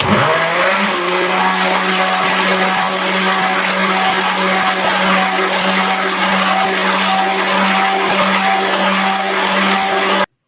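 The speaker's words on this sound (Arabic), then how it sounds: "وكل ده هديله طحنه في الخلاط برضو" A loud blender grinding sesame seeds into tahini whirs steadily after a brief spin-up, a constant high-pitched grinding motor drone that cuts off abruptly at the end.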